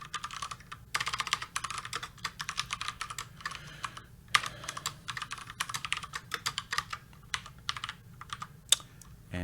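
Code is typed on a computer keyboard in quick, irregular bursts of close, clicky keystrokes with short pauses between runs, no voices present.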